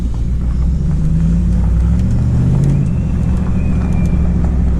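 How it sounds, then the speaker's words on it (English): A cold truck engine runs at a fast idle of about 1500 RPM after a cold start, a loud, close low rumble with a faint shifting tone and small ticks over it, steady throughout with no talking. "Now this truck is cold, and that was about 1500 RPM, which is a cold start RPM about."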